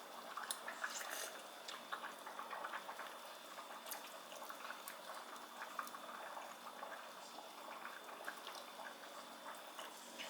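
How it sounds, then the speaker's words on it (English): Lemon white bean chicken soup simmering in a pot, a soft continuous bubbling with small pops and drips, quiet and close, no talking. "I think I've let that simmer long enough"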